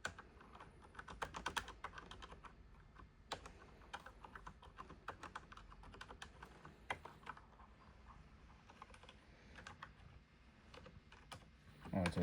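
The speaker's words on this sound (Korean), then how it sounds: "그래서 제가 입력을 좀 할게요." Close, quiet typing on a computer keyboard, a steady patter of key clicks with occasional louder bursts, continuing for about twelve seconds.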